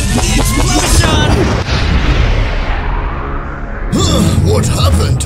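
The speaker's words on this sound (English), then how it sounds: "I'm feeling the explosion!" A loud, sustained booming blast with a falling rumble in an animation, fading out before a second burst of noise returns.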